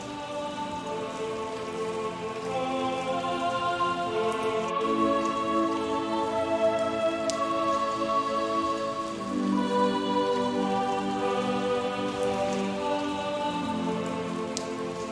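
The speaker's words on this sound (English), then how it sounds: "listening with rapt attention to the rain on the banana leaves outside your window" Steady rain patters on banana leaves outside a window in a Suzhou garden, a dense continuous hiss of drops with soft low tones and occasional sharper drips.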